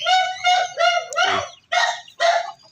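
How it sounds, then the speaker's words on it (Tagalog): Red junglefowl (labuyo) chickens calling close by in a series of short, loud, harmonic bursts separated by brief gaps. "Bantex at saka labuyo, na pure labuyo."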